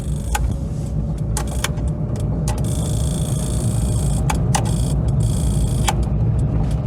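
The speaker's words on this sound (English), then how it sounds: "I don't know what's going on with the indicator relay on this thing." Faulty Volkswagen indicator relay ticking irregularly above a steady car engine drone, sharp clicks in uneven bursts while the car runs on only three cylinders, no talking.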